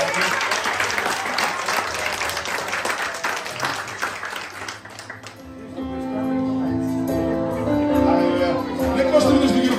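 Audience applause at a Bulgarian church service, a full crowd clapping steadily for about five seconds before giving way to music with talking.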